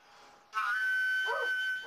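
One of two malamute wolf-dog mix dogs lets out a close, high whistling whine that holds for about a second and then drops off, with no people talking.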